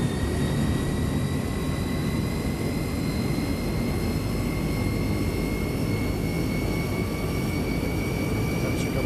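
A YS-11 turboprop engine spools up during engine start in Microsoft Flight Simulator, a steady, loud broadband roar with rising tonal whines layered over it, continuous and close.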